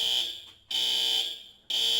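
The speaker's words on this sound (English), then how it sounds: "that's the fire alarm" A fire alarm sounds in loud, steady high-pitched bursts, cutting off briefly twice with short gaps between long tones.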